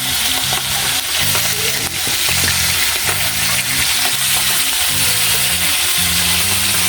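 Hot cooking oil spatters and crackles loudly and continuously as food fries nearby, a dense steady sizzle with faint rhythmic tones underneath.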